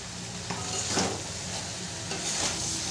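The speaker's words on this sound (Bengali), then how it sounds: "মশলার সাথে সয়াবিন আলুটাকে খুব ভালো করে কষিয়ে নিতে হবে।" Soybean chunks and potatoes are sautéed with spices in a pan, a steady close sizzle with a few louder scraping stirs rising at intervals; no voices are heard.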